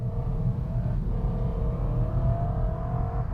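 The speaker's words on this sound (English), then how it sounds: "this has the big snarling V8" A BMW E90 M3's big V8 engine revs hard toward 6,000 RPM, climbing steadily in pitch, a loud, throaty snarl building under acceleration with no voices.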